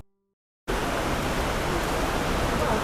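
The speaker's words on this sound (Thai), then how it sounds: "ณเวลานี้นะครับฝนก็ตกนะครับ" Rain pours down at a Thai temple, Wat Phra Bat Nam Phu, a dense, steady roaring hiss that starts abruptly after a brief silence and continues evenly without voices.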